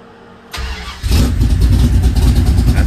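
A 1972 Dodge D100 truck with a 10:1 compression engine cranks briefly, fires within a second and settles into a loud, steady running rumble close to the microphone.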